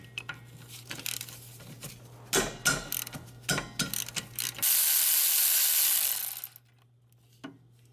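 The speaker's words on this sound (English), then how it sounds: "Okay, so now I'm gonna undo these bolts." Ratchet clicking in short close bursts while loosening hub assembly bolts on a Hyundai Sonata rear wheel, followed by a sustained loud whirring stretch of a few seconds, then near silence.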